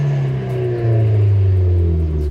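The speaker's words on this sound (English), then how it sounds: "So let me give you guys a couple of revs." A Genesis Coupe with a Tomei turbo and larger intercooler, tuned to about 300 wheel horsepower, revs while parked, its deep, loud engine drone rising in a sustained climb and holding strong and close.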